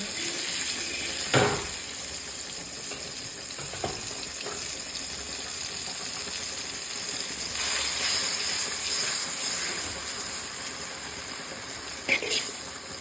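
Butter sizzling in a pan as cooking starts for pancit canton, a steady hiss throughout with a few brief louder crackles and clatters, no talking.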